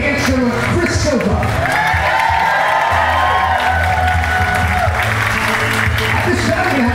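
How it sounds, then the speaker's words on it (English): Wedding guests at The Barn at Gibbet Hill near Boston applaud and cheer loudly and steadily, a dense wash of clapping and whoops filling the room alongside music and voices. "applause going to the very handsome Chris Silva"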